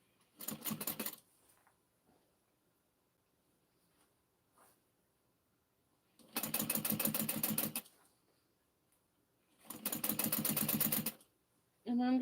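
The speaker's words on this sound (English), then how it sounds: "I'm gonna go ahead and stitch that down." A sewing machine stitches a mini backpack in three loud, steady bursts of rapid mechanical whirring separated by quiet pauses, with a short fourth burst starting at the end.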